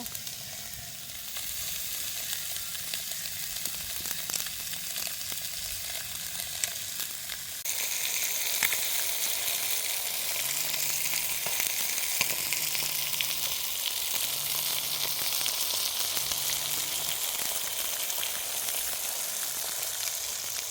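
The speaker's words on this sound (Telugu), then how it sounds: "కొంచెం నూనె కాలిపోయింది కృప." Raw dried fish frying in hot oil in a pan in a village kitchen, a loud continuous sizzle that stays alone with no talk and briefly intensifies partway through.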